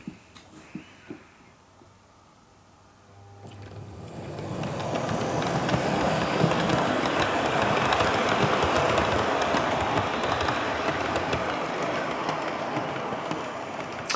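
A Hornby BR Class 50 model locomotive starts up and runs along its track pulling carriages. After a quiet start a rising whir and rattle settles into a steady, fairly loud mechanical hum, with no talking.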